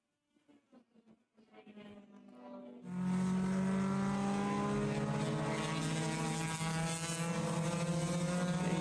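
Race cars at an SCCA MARRS event at Summit Point circuit. A faint engine note gives way to a loud, sustained, droning roar that holds steady for several seconds.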